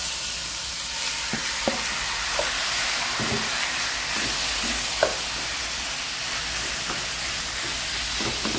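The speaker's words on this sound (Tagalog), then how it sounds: "Ipa-brown lang natin yung ating pork guys." Pork belly browning in a pan with a little oil, giving a steady close sizzle and hiss with scattered pops and spits throughout, no talking.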